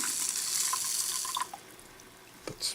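Water runs from a tap into a container of pickling salt for a rusty hammer restoration, a steady hiss of pouring that cuts off after about a second and a half, followed by a few small splashes and drips.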